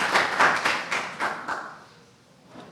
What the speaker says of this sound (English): give another round of applause for the Emerald Community Singers.